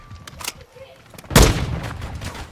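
Gunfire in the video game Call of Duty: a few sharp shots, then a loud, heavy blast with a rumbling tail, close by under a busy background.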